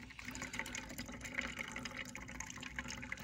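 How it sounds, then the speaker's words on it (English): Tap water pours steadily into a cup, a continuous faint splashing and gurgling stream with no talking. "like when I look at the water that's coming into the cup"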